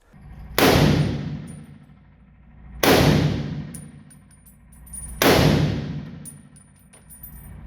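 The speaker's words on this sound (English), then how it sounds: "gifted me the opportunity to fire an M1 Garand" Three loud, sharp M1 Garand rifle shots fired outdoors at a gathering, evenly spaced about two seconds apart, each a sharp crack followed by a long rolling echo that fades before the next.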